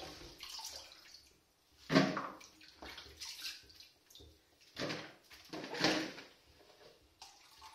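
Cauliflower is rinsed under running water in a kitchen, giving soft, uneven splashing and trickling bursts close by, with stronger gushes around the middle and the end.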